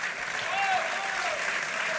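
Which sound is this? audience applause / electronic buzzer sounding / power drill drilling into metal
audience applause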